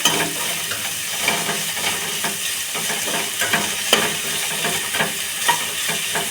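Cauliflower and onion fry in a pan for a homemade spaghetti noodle dish, with a steady close sizzle and frequent scraping stirs throughout.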